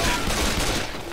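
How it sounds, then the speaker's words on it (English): Rapid gunfire from the Left 4 Dead video game, a dense burst of overlapping shots crackling continuously at close range for about a second. "What is up with you shooting me?"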